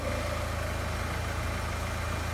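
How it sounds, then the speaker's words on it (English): A car engine idles steadily, a low even rumble with a regular pulsing beat, close and unchanging, without any voices. "You can hear the engine running."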